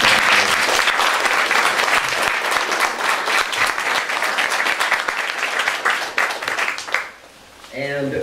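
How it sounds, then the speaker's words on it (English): A forum audience applauds the mayoral candidates with dense, steady clapping for about seven seconds before it fades and a single voice starts speaking. "I think that they all deserve a round of applause."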